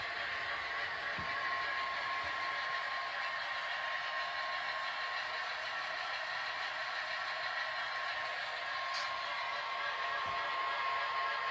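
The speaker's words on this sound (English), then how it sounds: "But we got ourselves a hopper train." A hopper freight train rolls past at a distance, a faint, steady rumble and hum that holds evenly with a few soft clanks and no talk.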